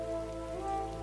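Steady rain pouring down in an open field, a dense continuous wash of drops falling on surfaces at close range, loud and even throughout with no voices.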